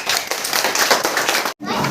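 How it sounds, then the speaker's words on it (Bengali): A group claps for Ritika, the winner of a children's opposite-action game, in a brisk, dense burst that cuts off briefly near the end and then resumes. "ঋতিকার জন্য হাততালি"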